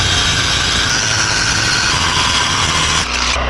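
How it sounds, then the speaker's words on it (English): A portable generator runs close by with a loud, steady engine drone that hums without a break, then dips briefly near the end. "I got my generator on."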